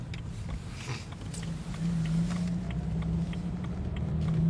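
A Stage 2 tuned diesel car drives along, its engine a low steady rumble heard from inside the cabin, gradually building in loudness toward the end.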